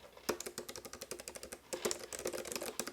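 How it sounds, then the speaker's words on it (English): Rapid typing on a keyboard with rubber butterfly-switch keys, a steady run of light, close clicks and taps at an even pace, fairly quiet and with no voices. "we're gonna do a little typing test to see what the keyboard actually sounds like"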